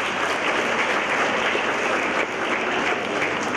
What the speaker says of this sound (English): Can we please have a huge round of applause for all of you?